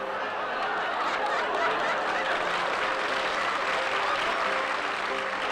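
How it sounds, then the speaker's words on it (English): A studio audience laughs and applauds at a comedy broadcast, a steady wash of clapping mixed with chuckles and snickers, sustained and fairly close throughout. "You may think you are listening to just laughter and applause"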